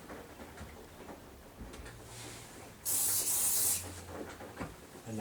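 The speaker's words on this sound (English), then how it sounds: "I'm going to spray it with some accelerant" Super glue accelerant is sprayed onto pine in one close, loud hissing burst of about a second, set against a quiet room.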